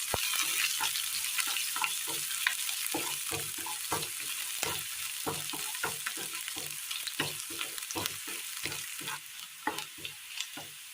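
Mustard seeds and rice grains tempering in hot oil in a pan for a Kerala breadfruit curry, a steady loud sizzle with rapid crackling pops and repeated scraping stir strokes throughout, no voices.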